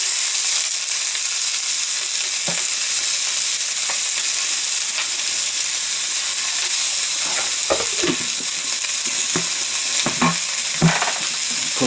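Spicy chicken pieces frying in a hot pan, giving a loud, steady sizzle throughout with occasional stirring clatters toward the end, no talking.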